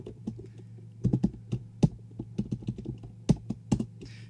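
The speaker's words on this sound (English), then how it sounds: "So we're just typing it in manually." Fingers tap a computer keyboard in a quick, irregular run of close, crisp keystrokes, heard alone over a faint low hum.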